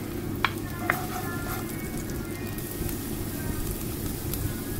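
Garlic and ginger sautéing in hot cooking oil in a pan, a continuous, moderately loud sizzle with a couple of small sharp pops near the start.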